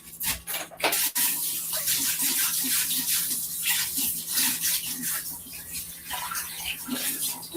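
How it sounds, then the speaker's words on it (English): Tap water runs steadily into a kitchen sink while hands are rinsed under it, a continuous close splashing hiss with small shifts as the hands move through the stream. "Now I'm gonna rinse my hands off."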